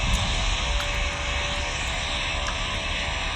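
A steady airplane engine drone in the video game Pilot Training Flight Simulator (PTFS) hums continuously with a bright, synthetic tone and faint periodic clicks over the top.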